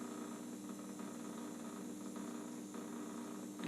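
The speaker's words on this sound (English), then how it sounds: "What you're hearing now is the sound of the ozonator." An ozonator runs with a faint, steady mechanical hum and hiss, continuous and even throughout with no voices.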